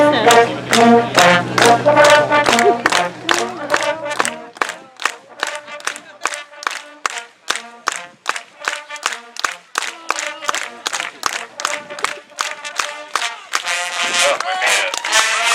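Crowd clapping along in steady rhythmic beats at an outdoor street concert by a high school band, with voices and band sound heavy at the start, then sharp unison claps continuing evenly.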